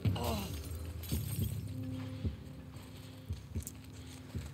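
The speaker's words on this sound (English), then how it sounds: "I really like how you can, like, break the glass in this game, too" Glass breaking in The Last of Us video game, with a bright crash at the start, then several sharp knocks and clinks spaced through a low, droning background, fairly faint.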